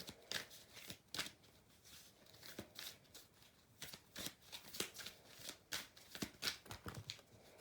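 Tarot cards shuffled by hand, a quick run of crisp riffling and slapping bursts close up with a steady, uneven rhythm and no talking.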